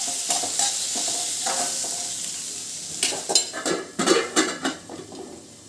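Lightly salted vegetables are stirred in a pan for a lunch-box rice dish. A steady sizzle runs underneath, and from midway the spatula scrapes and clatters in quick, louder bursts.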